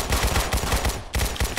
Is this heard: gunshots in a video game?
yes